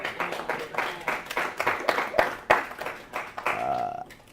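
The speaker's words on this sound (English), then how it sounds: "Let's give a round of applause for Brad," An audience at a talk applauds for Brad, a burst of close, lively clapping lasting a few seconds. It thins out as a voice starts speaking at the end.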